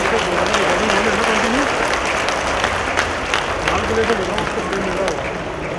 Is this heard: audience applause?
yes